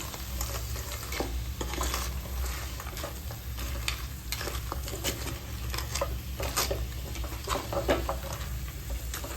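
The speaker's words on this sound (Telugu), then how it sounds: "క్లీన్ చేసుకున్న బెండకాయల్ని నేను వేసేసి" Cleaned okra fries and is stirred in a pan, giving a dense, steady sizzle with scattered scraping and crackling close by, no one speaking.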